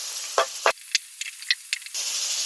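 Onions and green chillies hit hot oil with a soft hiss, broken by a few short sizzling bursts and small pops before the steady frying hiss returns.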